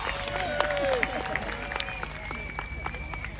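Outdoor crowd at a jousting display at Hampton Court Palace clapping and cheering for a knight, a steady spread of applause with scattered shouts, fairly distant.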